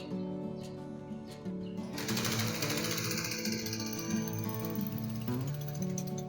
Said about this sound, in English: I'll be stitching this together. I'll be stitching at 1/2 inch